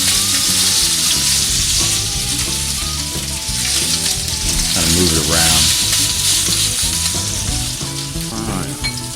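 Steak searing in a hot pan of smoking olive oil gives off a loud, steady sizzle and hiss throughout, with music-like tones and a brief spoken remark over the top.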